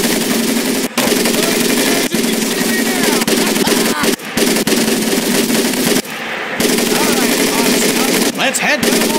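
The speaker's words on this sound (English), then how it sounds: "M1919A430 caliber machine gun" An M1919A4 .30 caliber machine gun firing in Medal of Honor Pacific Assault boot camp, long loud sustained bursts of rapid gunfire with brief pauses between strings, voices briefly heard beneath.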